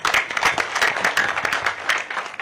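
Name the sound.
audience applause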